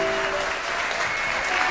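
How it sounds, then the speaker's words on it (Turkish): A concert audience applauds the Antalya municipal band and city orchestra at a tribute concert for master musicians. The clapping is dense, steady and continuous throughout, with no speech over it. "en büyük alkış da Apo orkestramıza gelsin"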